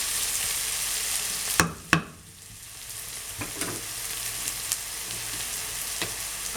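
Garlic frying in a pan at the start of a homemade bolognaise sauce gives a steady close sizzle, broken by two sharp utensil knocks early on and a few lighter taps later.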